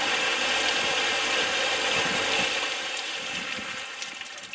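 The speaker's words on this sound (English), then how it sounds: "So there's a hell of a lot of water coming out of there." Water sprays hard from the blade of a Norton Flexvolt Clipper TT200 cordless cut-off saw in pouring rain, a dense steady hiss with faint mechanical rattles, close by and continuous throughout.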